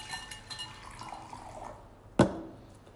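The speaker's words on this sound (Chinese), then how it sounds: "银河水首先呢要非常温柔的加入水" Water gently poured into a container while making galaxy slime, a soft trickle followed by one short, distinct splash near the end, close and quiet.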